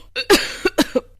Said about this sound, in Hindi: आप आज बहुत ज्यादा खांस रही हो